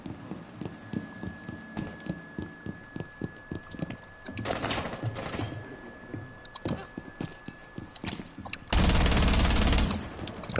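Bursts of rapid video game gunfire crackle in quick rhythmic volleys, mid-distance and fairly faint, ending in a louder sustained blast of noise.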